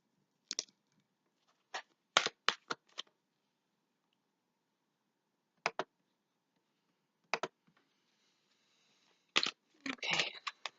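Short, crisp bursts of riffling tarot card shuffles close by, coming in quick clusters separated by quiet pauses.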